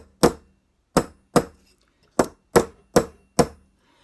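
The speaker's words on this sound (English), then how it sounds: "Can you see that I am hammering it at a slight angle," Steel hammer striking a forged metal bracelet on a steel bench block: seven sharp, ringing metallic blows at an uneven pace, close and distinct with short decays and silence between them.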